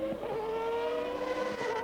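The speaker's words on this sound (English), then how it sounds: "Lovely view of the Williams Renault with its RS5 V10 engine." A 1993 Williams Renault Formula One car with an RS5 V10 engine in qualifying at the European Grand Prix, its high-pitched engine wailing steadily and loudly for the whole moment.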